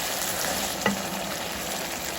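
Chicken and tomatoes cooking in a karahi give a dense, continuous sizzle, with one brief knock of a spoon partway through and no voices.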